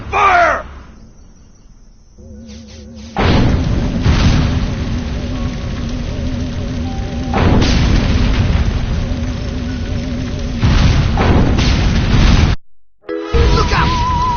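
Gunfire and explosions in the alien-invasion video game Destroy All Humans come in loud bursts that boom and rumble for several seconds at a time, separated by brief lulls.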